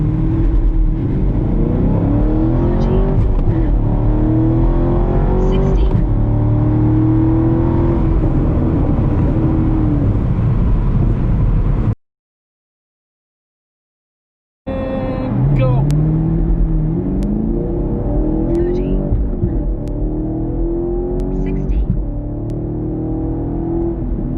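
A 6th-generation Chevrolet Camaro accelerates hard during a performance timer run, its loud engine note rising through repeated gear sweeps before a brief cut to silence, then climbing again, with a person talking over it.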